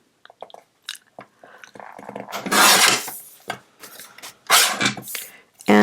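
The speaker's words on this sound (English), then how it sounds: "I'm going to trim it down just a little bit on this edge." Patterned paper for a handmade spring card is trimmed along one edge, giving a few close, rasping slides and soft rubbing scrapes in quick, uneven strokes.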